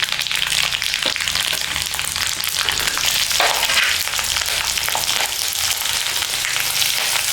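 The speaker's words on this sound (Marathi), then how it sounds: "मित्रांनो आपलं तेल आता छान तापलेलं आहे. तर आता काय करू, आपण मोहरी टाकून घेऊया." Mustard seeds, cumin and green chilies sizzle loudly and steadily in hot oil for a dhokla tempering, a dense continuous crackle with a few sharper pops.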